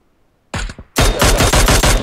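Rapid gunfire in PUBG Mobile: a short burst of close, loud shots, a brief pause, then a longer sustained volley of sharp repeated cracks.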